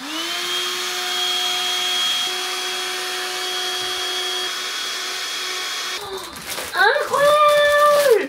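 A vacuum cleaner sucks the air out of a storage bag full of clothes: a steady, close motor whine holds for several seconds, then the pitch wavers and rises as the bag collapses and the suction strains.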